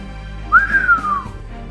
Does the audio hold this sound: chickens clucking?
no